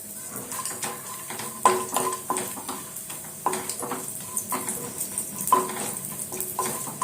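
Dry fruits fry in ghee in a pan while being stirred, with a continuous crackling sizzle and repeated spoon scrapes and clinks against the metal, up close.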